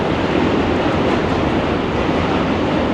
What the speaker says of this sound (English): Hopefully catching the noise of the subway cars on Manhattan Bridge.